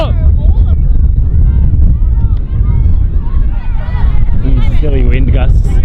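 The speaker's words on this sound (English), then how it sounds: "These silly wind gusts." Strong wind gusts buffet the microphone on an outdoor quidditch pitch during a league match, a loud continuous rumble with a commentator talking over it.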